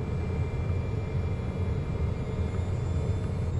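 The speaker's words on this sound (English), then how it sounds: "There's an Eclipse jet." An Eclipse jet passes at an airfield as a broad, steady roar and rumble, constant in level and without talk.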